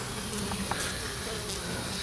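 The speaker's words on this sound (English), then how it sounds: "Well, that's just a few bees here now." A few honeybees hum inside a swarm trap during an inspection, a faint steady drone with scattered brief buzzes over a low background hiss.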